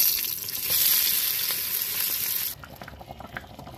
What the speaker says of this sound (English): Now we're going to fry the fish balls.